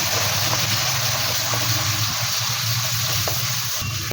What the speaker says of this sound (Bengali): এটিকেও ভালো করে নাড়তে থাকবো